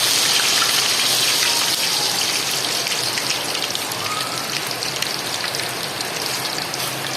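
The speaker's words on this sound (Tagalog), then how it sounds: "Yung quick reaction ng balat niya, is to pop." Pork skin refrying in hot oil gives a continuous loud crackling sizzle with scattered pops, close and steady throughout, no talking.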